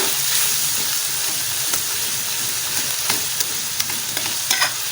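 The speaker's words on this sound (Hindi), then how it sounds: "अब इसको मिक्स करूँगी अच्छी तरह। ये रोस्ट होना शुरू हो गया माशाल्लाह।" Beef mince with peas, garlic and ginger roasts in a pan while a spoon stirs it, producing a continuous close sizzle with scraping and clicking of the utensil at irregular intervals, no talking.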